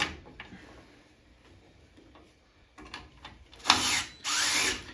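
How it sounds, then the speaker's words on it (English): A DeWalt power drill with no forward or reverse switch whirs in two loud bursts after some quiet clicks and handling, close up in a workshop. "DeWalt makes it, but there is no forward or reverse on the drill."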